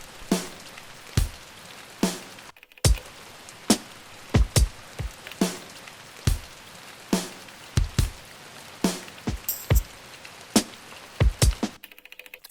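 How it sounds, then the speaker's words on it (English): A rain Foley sample played back on an Octatrack sequencer comes through as a rhythmic series of sharp, spattering drop-like hits with soft hiss between them, looping in a choppy pattern. "So here I've got rain."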